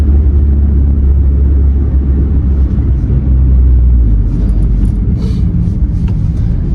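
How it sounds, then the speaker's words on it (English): Renault Twingo cabin at 30 km/h: a constant low road and engine rumble fills the interior, fairly loud, with faint light clicks and rattles near the end and no talking. "Here is a noise test"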